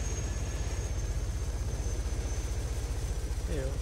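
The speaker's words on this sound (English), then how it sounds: "That's the airplane." Airplane engine in Arma 3 hums with a low, steady pulsing throb, moderately loud and continuous, with a brief tonal chirp near the end.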